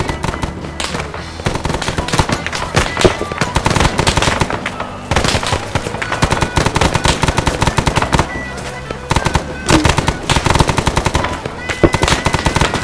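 An RPD machine gun fires in a video game, with loud, rapid bursts of automatic fire and sharp cracks packed densely across the whole stretch, almost without pause.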